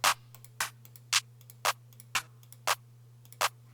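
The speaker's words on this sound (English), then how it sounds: "So I'm just going to select a clap." Sharp, crisp trap clap samples hit in a steady repeating pattern, about seven or eight times, over a low constant hum.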